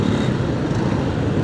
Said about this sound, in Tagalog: Tsaka ang traffic na